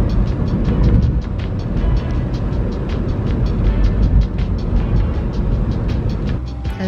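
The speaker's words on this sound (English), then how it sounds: "we are going to drive to the port." Steady car interior road noise while driving to a ferry port in France, a loud continuous rumble of engine and tyres with faint ticking, no talking.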